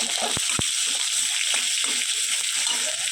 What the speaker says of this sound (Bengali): তেলের মধ্যেই দুটো শুকনো লঙ্কা আর কিছুটা পাঁচফোড়ন ফোড়ন দিয়ে দেবো এরপর কেটে রাখা অর্ধেক টমেটো আর কিছুটা আদা থেঁতো করে এর মধ্যে দিয়ে দেবো